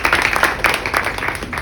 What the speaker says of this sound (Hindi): एक बार जरा ताली बजाएंगे तो स्वागत करें।